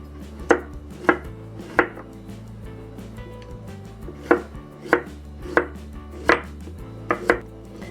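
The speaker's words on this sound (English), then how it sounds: "I'm cutting it into matchstick size pieces" A knife chops zucchini into matchstick pieces on a board, about ten crisp, sharp strokes in a fairly steady rhythm, close and clear with no talking.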